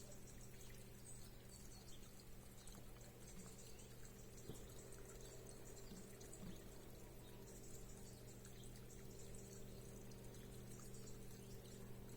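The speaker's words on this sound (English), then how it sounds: "this is the compost tea I made, so I'll just pour all this in here." Homemade compost tea poured steadily onto biochar outdoors, a continuous faint watery pour under a constant low background hum with an occasional bird note.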